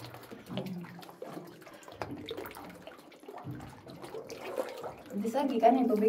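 Spring water trickles and splashes gently in a cave while people talk over it, the flow growing a little louder toward the end.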